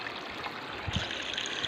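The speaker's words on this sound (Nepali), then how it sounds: "एकदम छिटो सङ्गुलिँदो रहेछ यो बगेको पानी।" Stream water flows steadily into a small dug well, a soft continuous trickle and gurgle heard close and alone.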